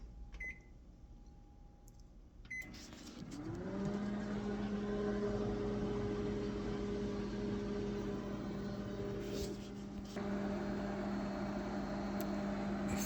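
A few beeps, then a click and a microwave hums to life, rising into a steady drone with a faint rattle that runs to the end.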